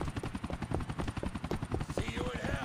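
Helicopter in Grand Theft Auto gameplay, a rapid rhythmic rotor chop thudding steadily nearby, with a game character's voice shouting over it near the end.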